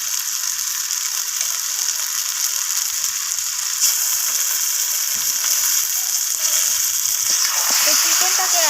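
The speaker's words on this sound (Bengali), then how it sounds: "চিকেনটাকে আমি পেঁয়াজ আর টমেটোর সাথে এইভাবে নাড়াচাড়া করে চিকেনটাকে আমি ভেজে নিচ্ছি" Chicken pieces frying with onion and tomato in a pan as they are stirred, giving a loud, steady, close sizzle throughout with a few scraping sounds toward the end.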